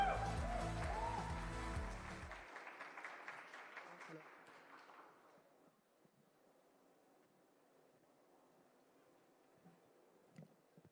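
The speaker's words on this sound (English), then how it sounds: "Manas, huge round of applause and over to you." Audience applause at a tech awards event, heard over loud stage music that cuts off, then the clapping thins to a faint, scattered patter.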